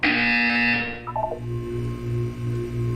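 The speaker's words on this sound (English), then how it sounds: "You will hear a buzzer." A buzzer in the video game Portal 2, heard as a loud electronic tone that cuts off and gives way to a short falling series of beeps and then a steady pulsing hum.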